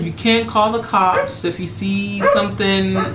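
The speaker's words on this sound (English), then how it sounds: "Sorry, that's our dog barking." A dog barks repeatedly in short, sharp bursts close by, overlapping with a person talking.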